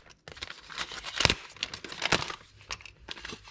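A plastic Ziploc bag holding small RC crawler accessories is pulled open, giving sharp crinkles and a couple of louder crackling snaps close to the mic, with scattered rustling in between.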